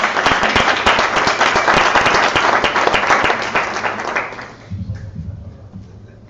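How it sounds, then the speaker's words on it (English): Loud, dense audience applause at a live presentation, a steady roar of many hands clapping that fades out near the end, leaving a few scattered claps and low murmurs. "Let's give these guys a round of applause."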